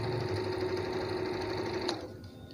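A Janome Memory Craft 6000 sewing machine, foot-pedal started, runs steadily with a fast, even mechanical whir and needle chatter up close, then slows and cuts out near the end.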